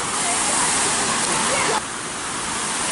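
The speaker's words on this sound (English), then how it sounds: "you've got the old Imagination backwards waterfall, which looks like fountains from here" Epcot's Imagination pavilion backwards waterfall fountains hiss and splash in a loud, steady broadband rush that drops slightly in level partway through, with a voice faintly present under the water.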